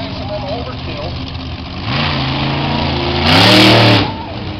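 The Maximum Overkill monster truck, built for speed, idles then revs hard twice at a mud event at DeSoto Speedway in Bradenton, its engine pitch sweeping upward under an announcer's amplified talk.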